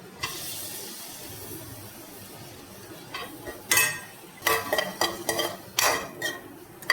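A spoon scrapes and stirs porridge inside a cooking pot, quiet at first and then louder in irregular bursts of clinking and scraping against a soft background hiss.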